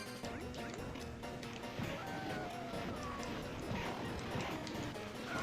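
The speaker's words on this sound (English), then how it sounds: "Oh, and you can summon these dogs." Summoned dogs bark and yip in the Castlevania: Order of Ecclesia video game, their repeated calls mixed into dense, continuous game effects and music at a steady, loud level.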